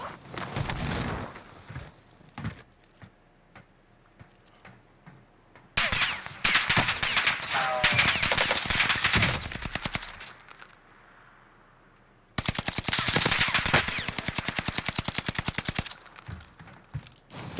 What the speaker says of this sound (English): Take out the 100-round Bren.